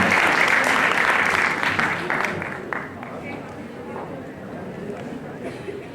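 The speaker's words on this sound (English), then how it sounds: "Please give her a huge round of applause." A college event audience claps in steady applause that gradually fades over a few seconds, with some crowd noise underneath.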